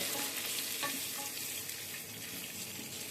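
Potatoes and onions fry in a pan over medium-low heat while being stirred, a close, steady sizzle with soft scraping movements throughout, no voices.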